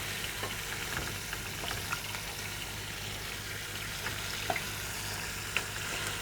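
Chicken sizzles steadily in a pan while browning for poulet chasseur, a continuous close frying hiss with faint occasional pops and stirring clicks.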